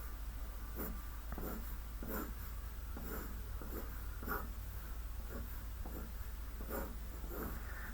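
Pencil sketching on paper: soft, repeated scratchy strokes in short bursts, close and quiet over a steady low background hum, no talk.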